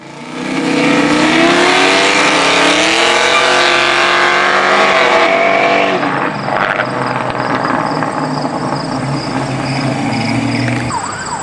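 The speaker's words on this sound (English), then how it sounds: "Here's some two cars that probably done a little drag racing" Two cars drag racing on a street in Chicago, engines roaring loudly and revving up through rising pitch sweeps, then easing into a lower drone as they pull away, no talk.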